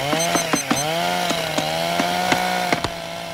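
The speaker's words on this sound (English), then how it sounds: "told you to lose that chainsaw." A chainsaw runs steadily with a buzzing drone, its pitch dipping and rising as sharp clanks and knocks punctuate it several times.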